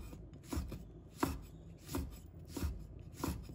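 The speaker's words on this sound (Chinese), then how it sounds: "再把它切成小圈。" Bird's eye chilies are chopped into small rings with a knife on a cutting board, about six soft, steady thuds close by at an even pace, with no talking.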